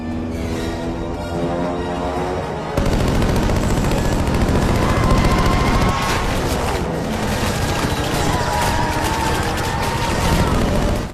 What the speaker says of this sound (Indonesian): Tembakan brutal dari senapan mesin pun meluncur dan aksinya berlangsung epik dan memukau